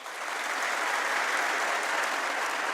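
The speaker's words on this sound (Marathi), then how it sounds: "जोरदार टाळ्या वाजवा" A live audience applauds steadily and loudly for a few seconds at a motivational talk, a dense wash of clapping with no voices.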